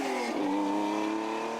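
A Porsche 911 races up a historic hill climb, its engine note rising and then holding a strained, loud whine as it accelerates, close by with no talk.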